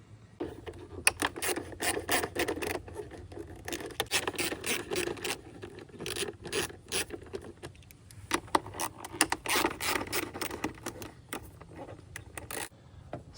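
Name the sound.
8mm socket removing Honda Passport air cleaner bolts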